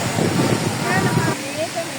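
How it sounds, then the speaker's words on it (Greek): Small river running near a waterfall at the Pozar hot springs, a broad steady rush of water heard close, with a voice talking briefly over the flow. "Είναι ποταμάκι."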